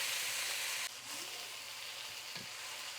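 Mint, coriander and fenugreek leaves fry in hot oil for tomato pudina pachadi, giving a steady, close sizzle with a sharp hissing burst at the start that settles into a continuous crackle and a soft stirring scrape.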